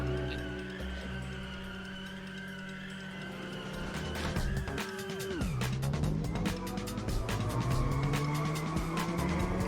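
A car drifting around a tight course in the video game Inertial Drift, steady engine drone and tire squeal, with a pitch drop midway before the engine climbs again under continuous skidding.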